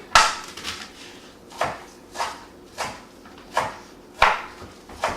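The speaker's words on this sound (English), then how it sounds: "some cilantro here. Just gonna give it a rough chop" Cilantro roughly chopped with a knife on a board, six or seven distinct, evenly spaced thuds, close and fairly loud, with quiet pauses between strokes.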